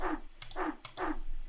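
A sung "hey" vocal sample pitched down twelve semitones, repeated three times in a steady rhythm, deep and growly with a breathy hiss on each hit, close and alone.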